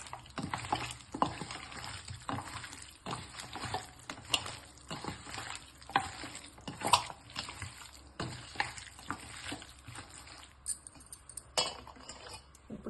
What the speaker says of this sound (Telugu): 2 గరం మసాలా వేసిన తర్వాత మళ్ళీ నీట్గా కలుపుకోండి